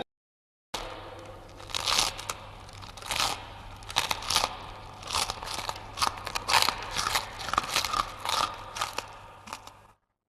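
A monster chomps and crunches noisily through its meal, with repeated wet bites, tearing and crushing bursts in an irregular rhythm, loud and close, over a steady low hum.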